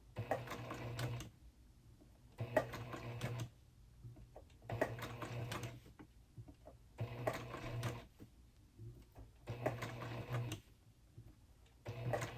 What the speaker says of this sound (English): And then just keep stitching all the way around.